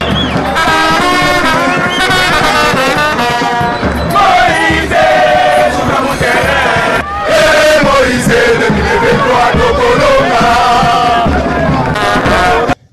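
Party militants of Ensemble pour la République pack a rally in Lubumbashi, Haut-Katanga, chanting and cheering for their leader Moïse Katumbi in a loud, dense, continuous roar of voices, with rising and falling chant tones.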